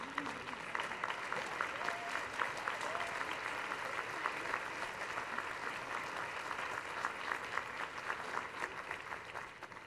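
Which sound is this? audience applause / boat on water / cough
audience applause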